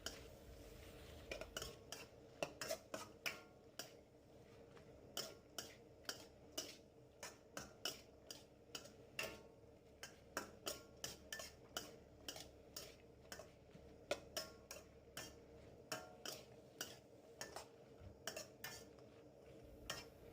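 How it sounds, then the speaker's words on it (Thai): Onion flowers and soybean paste are stirred in a pan with a metal spatula, giving a faint, regular series of clinks and scrapes against the pan over a soft background hiss. "ผัดดอกหอมให้สุกดีเลยค่ะ"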